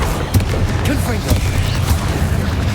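Fire spell explosions and spell blasts in Hogwarts Legacy, a rapid run of sharp booms and bursts heard close and loud under a voice.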